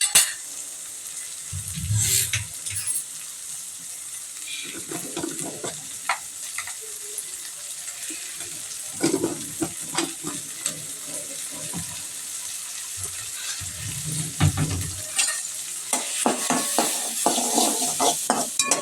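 Bottle gourd chutney ingredients sauté in a pan with a continuous sizzle, broken by repeated bursts of spoon scraping and stirring against the metal.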